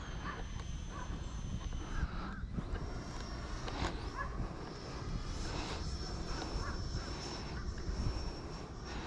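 A steady whining jet roar from a low-flying E-flite Viper RC jet with a 90mm electric ducted fan, faint and constant with a thin high tone and some wind noise.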